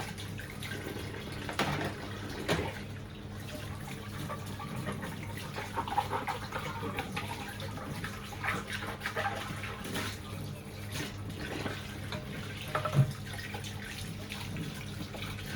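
Tap water running steadily while dishes are washed at a sink at night, with occasional clinks of utensils under a low, continuous flow.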